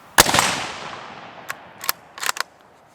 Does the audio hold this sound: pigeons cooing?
no